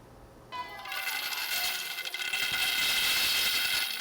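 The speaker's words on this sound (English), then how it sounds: "The sound of the coins rattling, accumulating love from all people." Metallic rattling and jingling of coins shaken inside bamboo coin banks, starting abruptly and building into a continuous, bright clatter.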